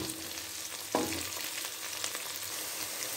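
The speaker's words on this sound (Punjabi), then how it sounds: "ਹੁਣ ਆਪਣੇ ਥੋੜੀ ਦੇਰ ਦੇ ਵਿੱਚ ਕਰੇਲੇ ਤਲ ਹੋ ਜਾਣਗੇ" Bitter gourd (karela) pieces frying in hot oil, a continuous close sizzle with a sharp stir or clatter near the start and a few lighter knocks after.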